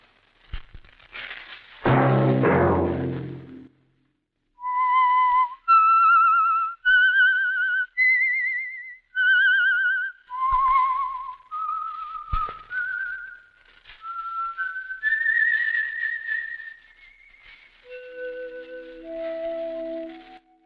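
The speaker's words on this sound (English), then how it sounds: "Let that whistle be your signal for the Whistler each Sunday night at this same time." Theme of an old radio drama whistled alone, as a clear solo melody of sustained notes rising and falling, with brief pauses between phrases.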